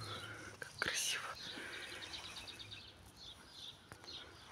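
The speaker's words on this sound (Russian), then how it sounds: "Слышите, птички поют?" Faint bird chirps and short tweets come from a distance over soft breathy whispering and a quiet hiss.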